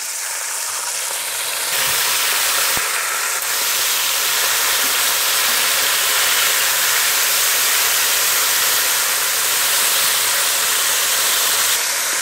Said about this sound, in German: Das Fleisch ist von der einen Seite angebraten, jetzt noch wenden.